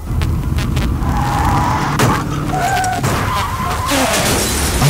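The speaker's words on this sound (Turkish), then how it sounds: "Az önce biri takip mesafesini korumadığı için önündeki araca çarpan birine çarptı" Car crash sound effect from a Turkish radio traffic safety ad: screeching, skidding tyres and a crash with shattering glass, loud and dense throughout over a continuous low rumble.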